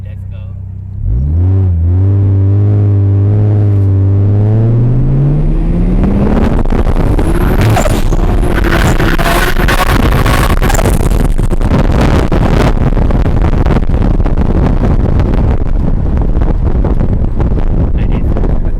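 A Mercedes 190E Evo 2 launches down a 400-meter drag strip at a Thailand car meet, its engine revving hard through rising gears, then fading into a loud, steady roar mixed with heavy wind noise and some voices.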